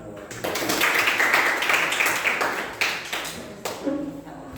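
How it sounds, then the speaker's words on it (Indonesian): Students in a classroom clap for a classmate. The clapping is a dense, lively burst that tapers off, then a few scattered claps follow, and voices come in near the end. "Tepuk tangan."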